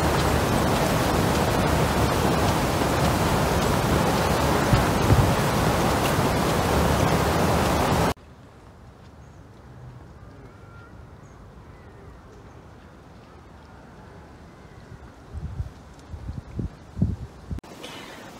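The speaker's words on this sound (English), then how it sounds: "it was windy outside" Steady broadband wind noise roars for several seconds, then cuts off to a quiet outdoor hush with a few soft knocks and rustles near the end.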